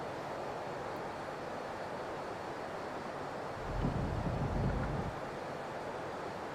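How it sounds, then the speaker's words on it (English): A turbine aircraft engine in the Prepar3D flight simulator drones as a faint, steady, airy whine, swelling briefly louder midway before settling back. "Who doesn't like the sound of a turbine?"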